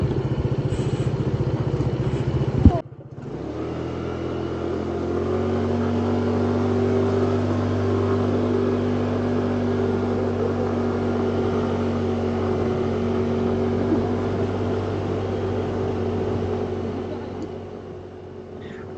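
A car driving along a road toward the Capelinhos volcano on Faial in the Azores, with a steady, loud engine and road drone that holds level after a brief clatter near the start.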